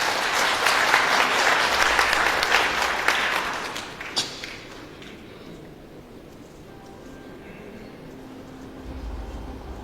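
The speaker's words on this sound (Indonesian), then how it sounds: "Tepuk tangan dulu dong." An audience at a motivational seminar applauds, a dense, loud wave of clapping that fades after about four seconds into a quiet room hum.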